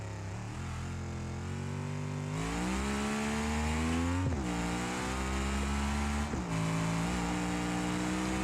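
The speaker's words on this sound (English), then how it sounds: "These cars can rev really high." A NASCAR stock car engine in the BeamNG driving game revs hard and climbs through the gears, with loud, continuous high-pitched wailing broken by brief dips at each shift.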